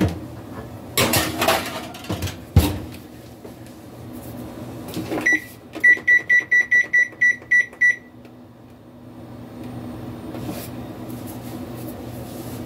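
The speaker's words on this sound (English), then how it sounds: "Now I'm going to go ahead and put these in the oven for, like I said, about 10 to 12 minutes." A tray of keto cookies goes into a home oven. A few sharp metallic clanks and knocks are followed by a quick run of electronic beeps, then quiet kitchen ambience.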